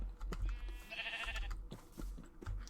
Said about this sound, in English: I see a bunch of sheep.